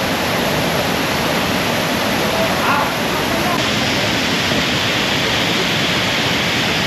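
Pinlac Falls in Infanta, Quezon roars as a loud, continuous wash of falling water that fills the whole stretch without a break.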